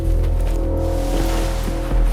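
Rushing waterfall in the video game Wuthering Waves, a loud, steady broadband roar of falling water heard alone with a low hum beneath.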